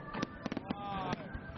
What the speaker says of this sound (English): So with the fireworks going off all around me, this is what it's like in TIANSHUI after midnight